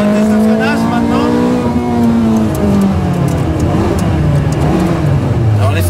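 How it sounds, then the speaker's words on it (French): Ferrari F430 Scuderia with ceramic brakes during a braking test, its loud, close engine note sliding steadily down in pitch as the car slows. "On va faire un test de freinage maintenant."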